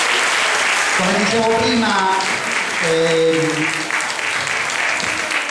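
Steady applause from a theatre audience fills the room, dense and continuous throughout, while someone speaks over it through a microphone.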